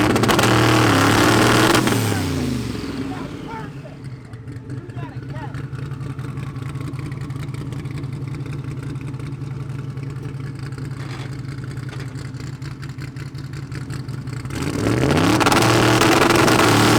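A 2,600 hp Honda drag car engine revs on a two-step launch limiter, a loud sustained low drone that swells at the start and again at the end, with a voice talking over it.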